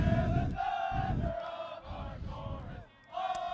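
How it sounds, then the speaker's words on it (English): William and Mary Darkhorse, a college ultimate frisbee team, sing their alma mater together as a warm-up cheer, a group of voices in sustained, chant-like unison heard from a moderate distance, rising and falling in swells. "William Mary singing the classic alma mater here as their warm-up cheer."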